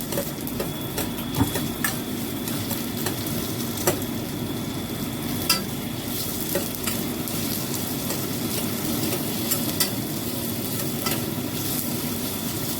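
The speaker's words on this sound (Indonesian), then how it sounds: "minyaknya sudah panas, bumbunya tak cemplungkan, bumbu iris. Lanjut diudek ya" Sliced spices fry in hot oil for vegetable lodeh, giving a steady busy sizzle with scattered scraping clicks from stirring, close and continuous throughout.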